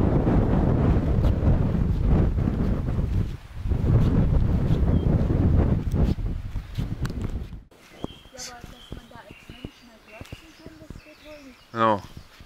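Loud wind buffets the microphone in a heavy low rumble for several seconds, then drops away, leaving quieter outdoor sound with a voice talking, on a hike near woods in Germany.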